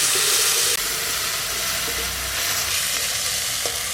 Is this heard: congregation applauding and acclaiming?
no